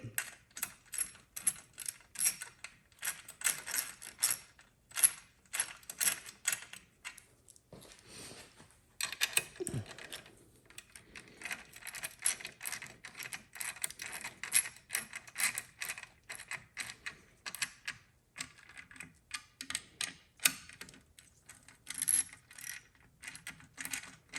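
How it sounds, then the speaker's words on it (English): A ratchet with a 7/16 socket tightening bolts on a Baja Pro fairing install on an Indian Sport Chief motorcycle, giving rapid, close clicking in irregular bursts with short pauses between strokes. "It's a 7/16 socket, and we'll go ahead and tighten these up."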